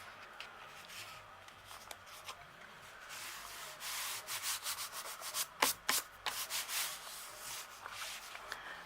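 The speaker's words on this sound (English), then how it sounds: "give that a good burnish. And just rub over where that line of glue is in the middle" Paper being burnished by rubbing firmly over a line of glue while assembling a mini album, a soft, faint scratchy rubbing with a run of quick rhythmic strokes toward the end.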